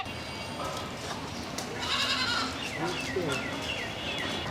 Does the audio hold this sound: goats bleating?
yes